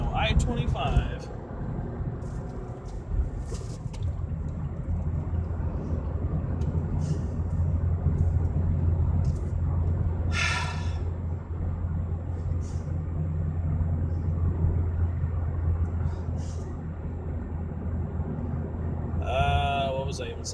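Car cruising along the I-25 highway in Colorado, with a steady low road and engine rumble running throughout and a person talking over it.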